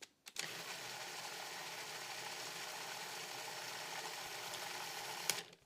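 A food processor purees cooked carrots, its motor starting abruptly and then running as a steady, even whir for several seconds, close by, with a brief clatter near the end.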